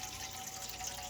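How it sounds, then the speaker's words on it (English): Tap water running steadily into a pan in a home kitchen, a faint, continuous hiss-like stream with no talking. "Okay, that's about as much water as I need."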